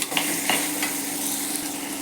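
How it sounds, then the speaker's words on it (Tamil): Onion, tomato, curry leaves and onion vadagam sautéing in hot oil, a continuous close sizzle with occasional light stirring scrapes. "இப்போ வெங்காயம், தக்காளி, கருவேப்பிலை, வெங்காய வடகத்தை போட்டு நல்லா தாளிச்சிக்கலாம்."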